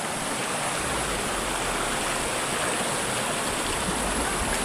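A once-dry creek bed now running with water, its steady broadband rushing and gurgling loud and close, constant for the whole stretch with no voices.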